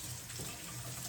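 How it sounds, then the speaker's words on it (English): Running water from a tap, steady and close, as hands are rinsed under it after handling onion seedlings and soil, with a brief continuous rush and no talking. "so let me just rinse my hands."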